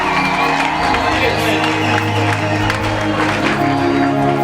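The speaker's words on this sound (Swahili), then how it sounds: "Makofi yako ni kidogo, makofi ni kidogo, vigelegele ni kidogo." Church congregation clapping, cheering and ululating together in a loud, continuous wash of crowd noise that holds steady throughout with no letup.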